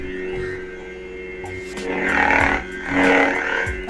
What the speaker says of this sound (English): Obviously you can tell that sounds a lot like Luke Skywalker